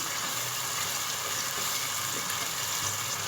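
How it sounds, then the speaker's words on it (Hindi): Beef karahi gosht with yogurt and finely chopped tomatoes frying over high flame gives a constant, loud hiss of sizzling with no pauses and no talk. "हाई फ्लेम कर दिया हमने और इसको हम अच्छी तरह भूनेंगे।"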